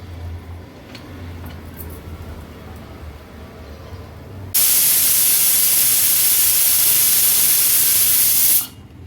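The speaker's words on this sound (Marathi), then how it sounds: "आता कुकरला झाकण लावून एक 5 ते 6 शिट्ट्या मीडियम फ्लेमवर आपल्याला ह्याच्या काढून घ्यायच्या आहेत।" Pressure cooker on medium flame with moong lets out a loud, steady jet of hissing steam that bursts in suddenly after quiet kitchen background and runs for about four seconds before cutting off.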